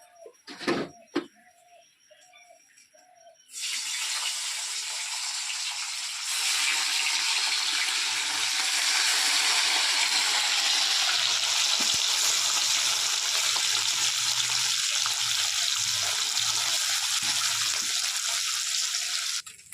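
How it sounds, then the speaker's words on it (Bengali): Fish sizzling in hot oil in a home kitchen, a loud, steady broadband hiss that bursts in suddenly and holds for the rest of the stretch, after a few quiet clinks and small knocks at the start. "এখানে মাছগুলো ভেজে নেবো তেলটা গরম হয়ে গিয়েছে"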